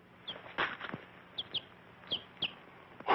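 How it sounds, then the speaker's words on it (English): A chicken clucks in a 1943 Western film, a handful of short, sharp squawks spaced irregularly over a quiet background, close and moderately loud. "A chicken?"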